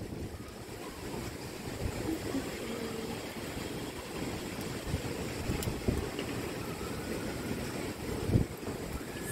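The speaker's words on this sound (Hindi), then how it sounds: "इतनी हवा चल रही है, बारिश हो रही है" Steady wind roars across the microphone with a broad rushing wash, a few sharp gusts and knocks, rain mixed into the constant noise, on a roadside stop during a road trip from Lucknow to Noida, India.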